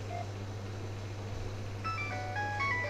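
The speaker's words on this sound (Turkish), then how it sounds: "Nokia'nın polifonik sesi" A Nokia 7250i phone plays its polyphonic ringtone, a bright, tinkly electronic melody of quick notes that starts partway through over a steady low background hum.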